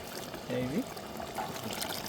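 Soup water is poured into a pot of goat head curry, giving a soft, close trickling splash under faint background noise, with a brief tonal sound midway.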